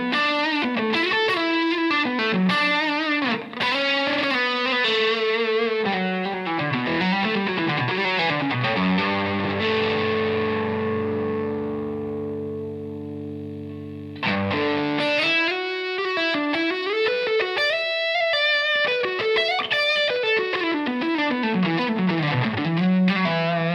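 An electric guitar runs through stacked Strymon Iridium and Boss DS1 drive pedals, playing a distorted lead line of quick bent notes, then a long sustained chord that fades before the busy phrasing resumes, loud and alone.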